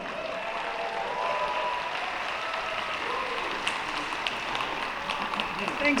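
Crowd applause at the Megaplex 2025 opening ceremonies for mascots Pounce and Dingo-Roo, a broad wash of clapping and crowd noise in a large space, steady and moderately loud with scattered sharper claps.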